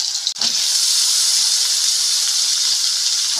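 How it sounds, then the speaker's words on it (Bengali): Potatoes fry in mustard oil in a wok, a loud, steady sizzling hiss that bursts in after a brief pause and holds evenly to the end, close up with no voices. "কড়াইয়ের মধ্যে সরষের তেল দিয়ে প্রথমে কেটে রাখা আলুগুলো ভেজে নেব।"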